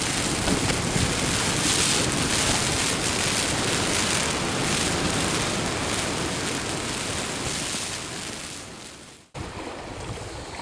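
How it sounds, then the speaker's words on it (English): Heavy rain pours steadily on a tent during a wild camp beside a castle on a Scottish island, a loud, dense hiss that fades briefly near the end and then returns, with no talking. "this rain is just about to hit, I think"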